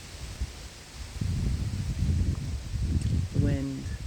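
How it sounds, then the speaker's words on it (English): Wind gusts through outdoor leaves as a steady, fairly loud broadband rustle that swells after the first second and holds, with a brief tonal chirp near the end. "Here comes the wind."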